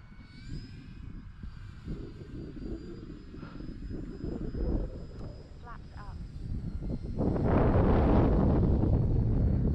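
A Turbo Timber Evolution RC plane flies past with a whining electric motor and propeller drone that rises and falls, swelling louder near the end amid wind buffeting on the microphone.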